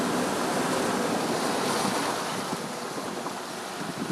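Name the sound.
vehicle driving through river crossing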